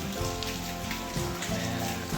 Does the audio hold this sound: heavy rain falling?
yes